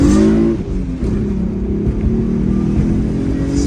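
A 1993 Mazda MX-6 accelerating in a roll from about 20, engine note droning loud and close from inside the car, rising steadily after a brief dip at the start.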